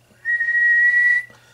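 A person whistles into a radio microphone feeding a modded four-tube Kris Mach 200B 10-meter linear amplifier: one steady, loud, pure whistle tone held for about a second, then cut off sharply.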